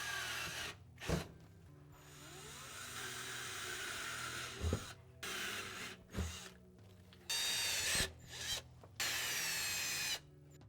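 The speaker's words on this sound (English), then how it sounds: "So we're just going to drill down a little bit further" A power drill drills into a UTV panel in several bursts of varying length, whirring steadily, separated by short pauses and a few clunks.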